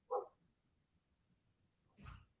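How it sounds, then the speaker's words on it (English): A dog barks once, close and loud, with a second, lower bark or bay about two seconds later, separated by near-silence. "Sorry, my dog is barking."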